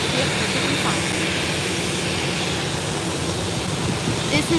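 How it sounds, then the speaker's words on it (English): An easyJet airliner takes off at Málaga Airport, its engines a loud, steady broadband roar that holds throughout without letup. "So you'll see it after this EasyJet takeoff."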